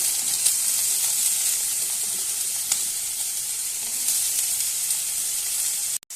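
Potatoes fry in a pan for soybean momo, giving a steady, loud, close sizzle that carries on throughout with a few faint clinks.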